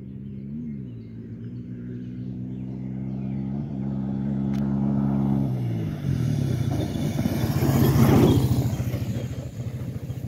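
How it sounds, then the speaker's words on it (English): A Honda 300EX ATV engine revs and climbs as it is power shifted from first gear, a steady buzzing drone that rises in pitch, peaks loudly, then carries on rough and strong outdoors. "This is her first time power shifting her 300EX."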